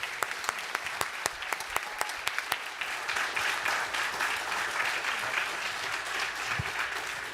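An audience at a college honors program awards ceremony claps for everyone, beginning with a few sharp distinct claps that swell into dense, sustained applause, heard with no talk over it.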